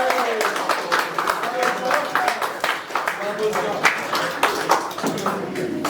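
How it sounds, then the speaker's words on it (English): A crowd at an end-of-season football club presentation cheers and claps for a player, the dense, steady applause filling the room with scattered whoops and the murmur of voices mixed in. "please, a big cheer for John."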